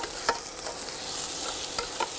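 Onion frying with mustard seed in a deep pan: a steady low sizzle with a few soft stirring scrapes, close and fairly quiet, and no one talking.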